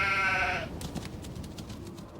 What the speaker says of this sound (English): A sheep.